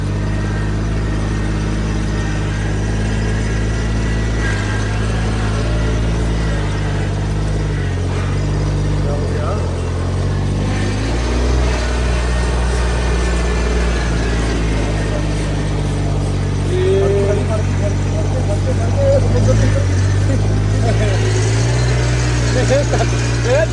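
A KAIRA rice planter machine's engine runs steadily, a continuous low mechanical drone with slight shifts in pitch, close and loud, with people talking over it.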